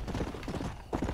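A horse's hooves clip-clop at a quick, even gait in the video game Red Dead Redemption: Undead Nightmare, the steady thudding beats close and moderately loud.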